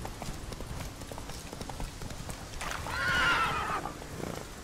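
Geralt's horse Roach in The Witcher 3 trots with steady clip-clopping hooves, then lets out one loud, clear whinny midway through before the hoofbeats carry on.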